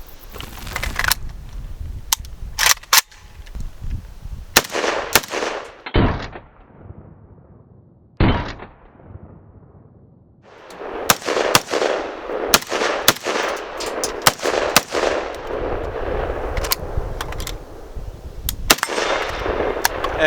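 Suppressed XM177E2 carbine, an early AR-15 style carbine fitted with a moderator, fired in a series of sharp shots with bursts and pauses between strings, loud and fairly close, with no talking.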